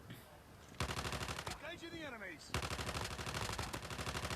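Rapid automatic gunfire in the Call of Duty video game rattles in two long sustained bursts, loud and continuous, separated by a short gap of other game sound.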